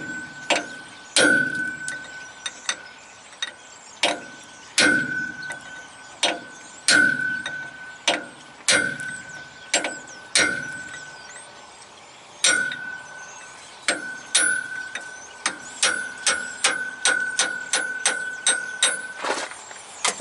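A square-ended punch hammered against an S-cam on a three-axle semi trailer brake, sharp ringing metallic strikes, sparse at first and then a fast run of close, loud blows near the end.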